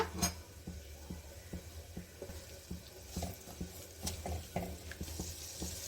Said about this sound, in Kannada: ಎಣ್ಣೆ ಬಿಸಿ ಆದಮೇಲೆ ನಾವಿಲ್ಲಿ ಗ್ರೈಂಡ್ ಮಾಡಿ ಇಟ್ಕೊಂಡಿದ್ವಲ್ಲ ಮಸಾ ಗ್ರೈಂಡ್ ಮಾಡಿ ಇಟ್ಕೊಂಡಿದ್ವಲ್ಲ ಮಸಾಲೆನ ಸೇರಿಸ್ಕೊಳ್ಳೋಣ